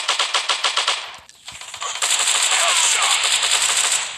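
Gunfire in the video game Counter-Strike: a rapid automatic burst of evenly spaced shots, a short pause, then dense continuous firing, loud and close.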